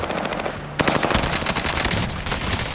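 Rapid automatic gunfire in a video game, loud and close, with a sharp burst onset followed by sustained rattling fire and no talk over it.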